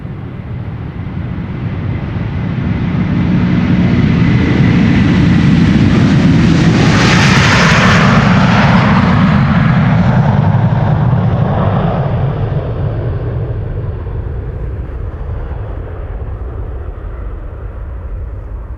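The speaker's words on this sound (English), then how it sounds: "we are going to see the first of the slew of wide bodies taking off as we speak. Delta Airlines on the move, flight 237" A Delta Airlines wide-body jet on flight 237 to Tampa takes off at Amsterdam Schiphol, the engine roar building to a loud, near pass with a piercing whine, then slowly receding into a low rumble.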